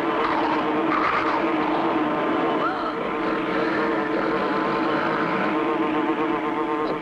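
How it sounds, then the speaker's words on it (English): A propeller airplane in the Clutch Cargo cartoon 'Crop Dusters' dives toward the ground while dogfighting a giant bug, its engine a loud, steady droning whine that holds throughout. "That giant bug swooping at Clutch's plane and Clutch diving at the ground."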